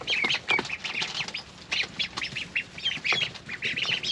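Khaki Campbell and Indian runner ducks on a farm quacking in quick, overlapping bursts, a busy chattering flock heard up close with no talk.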